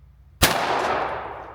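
A single close, sharp blast from a Beretta over/under shotgun, loud and sudden after near silence, followed by a short fading echo.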